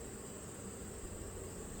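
Italian honeybees in a Langstroth hive give off a faint, continuous buzzing hum that stays even throughout, with no voices over it.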